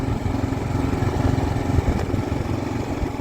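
A Kawasaki KLR 650 motorcycle rides along gravel back roads, its engine giving a steady, dense low drone that holds at an even level without a break. No one speaks.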